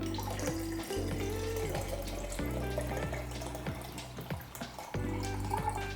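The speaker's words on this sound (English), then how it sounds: "Now that we have that in, we're going to add some more alkaline water." Alkaline water pours steadily into a pot on the kitchen counter for ginger broth, a continuous splashing flow with small clinks, fairly close and with no talk.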